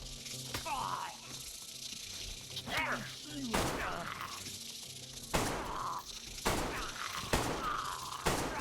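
Gunfire in the video game DayZ rings out in several sharp, loud cracks spread across the stretch, with a few quieter clatters between them and voices talking in the background.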